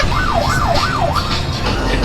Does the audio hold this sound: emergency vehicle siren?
yes